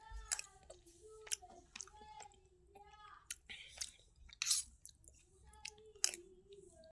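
Close, quiet chewing and biting as people eat roti with curry, irregular crunchy and wet mouth sounds scattered over several seconds, with faint murmured voices now and then.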